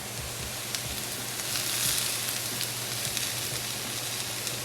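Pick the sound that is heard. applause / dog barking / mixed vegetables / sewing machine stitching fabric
mixed vegetables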